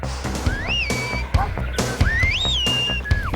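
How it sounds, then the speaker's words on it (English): A farmer's whistle directing sheepdogs: a few sharp rising and falling whistle calls in short bursts, close and clear over light background noise. "The dogs follow the farmer's whistle because they think of him as their leader."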